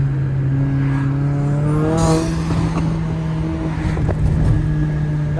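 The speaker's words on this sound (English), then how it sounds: "this car is probably the best sounding 4-cylinder on the market" A tuned Mercedes GLA 45 AMG four-cylinder turbo engine revs in a steady drone that rises through a quick throttle blip, loud and close, with no talking.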